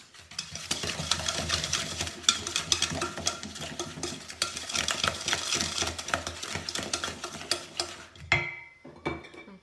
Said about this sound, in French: Donc avec une cuillère, donc vous le mélangez fort, toutes vos forces.